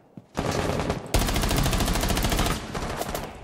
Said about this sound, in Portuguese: da onde tá vindo esses tiros?